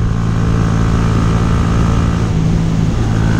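Honda Grom motorcycle engine droning steadily while riding through Ilion Gorge, loud and constant with wind rush throughout, with no talking.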